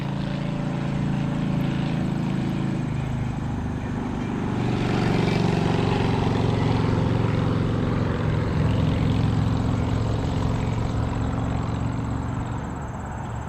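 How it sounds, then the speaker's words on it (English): A loud engine drone swells as a motorcycle approaches and rumbles past, holding strong for several seconds before slowly easing off. "Here comes a loud motorcycle."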